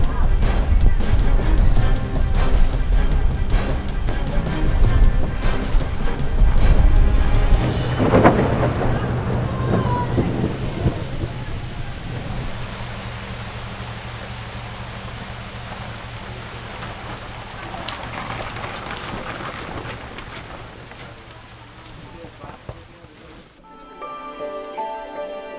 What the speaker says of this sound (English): About 30 minutes later, the storm dies down